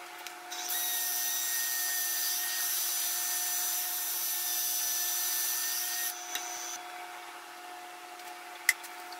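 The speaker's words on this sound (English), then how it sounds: "But I'm going to sand it right now." Power sanding on a recycled resin piece, a steady high whirring grind that starts abruptly, runs evenly for several seconds, then cuts off, followed by a few faint clicks and a sharp tap.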